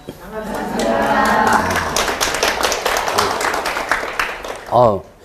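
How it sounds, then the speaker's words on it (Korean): A lecture-room audience claps in a dense, steady patter that thins toward the end, with speech running over it and a brief louder voice near the close. "누가 이렇게 박수를 치라 그랬나요?"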